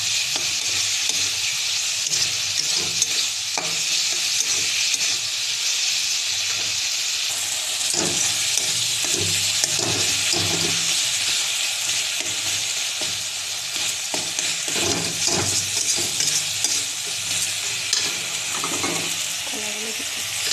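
Tomatoes sizzle and fry steadily in a pan for a raw banana dish, with repeated scraping stirs of a spatula breaking through the hiss across the whole stretch.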